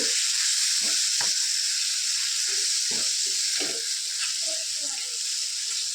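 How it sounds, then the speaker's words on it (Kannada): Masala and tomato frying in oil for egg curry, a bright continuous sizzle over low scraping and stirring knocks, close and fairly loud. "ಇದನ್ನೆಲ್ಲ ಎಣ್ಣೆಲೆ ಚೆನ್ನಾಗಿ ಫ್ರೈ ಮಾಡ್ಕೋಬೇಕು"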